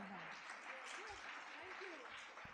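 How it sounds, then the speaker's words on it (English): Thin, faint applause from a small audience at a symposium in Delhi, steady patter with speech-like tones drifting over it. "Okay, that's a really sad round of applause."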